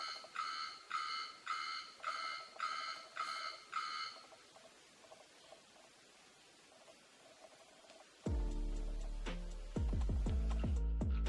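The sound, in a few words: morning alarm clock ringing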